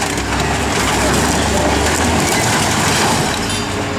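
An old car being crushed at a scrap yard: dense, loud grinding and crunching of metal fills the whole stretch, steady and close.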